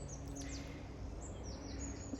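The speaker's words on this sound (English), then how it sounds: "Listen to the birds singing." Faint bird chirps and song phrases outdoors at Kenilworth Castle, England, in the morning, over a steady low background hum, with short calls recurring every half second or so.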